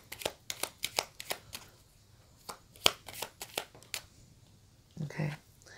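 Tarot cards being shuffled and drawn, a quick series of close, crisp card slaps and riffles in uneven rhythm, then a brief soft rustle near the end, with no speech.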